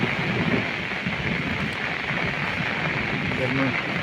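Steady rain falls outdoors during a rainy spell over paddy fields, a dense, even hiss at moderate loudness throughout, with a voice speaking underneath.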